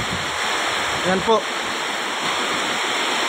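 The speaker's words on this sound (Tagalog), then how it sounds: "Grabing tubig po. Lakas ng ulan." Heavy rain and rushing flood water on a street make a dense, constant roar, with a short spoken remark briefly heard over it.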